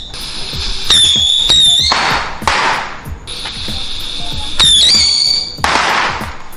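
Two rockets go off in turn, each giving a rising whistling squeal and then a loud crackling hiss, close and loud.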